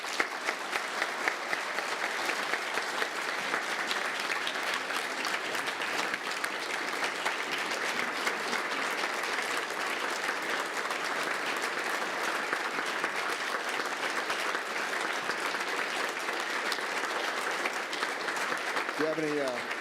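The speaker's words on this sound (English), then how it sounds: "So let's give him a round of applause." Sustained audience applause at a city council meeting honouring a retiring firefighter, a full room clapping in a dense, even roar that holds for about twenty seconds with little change.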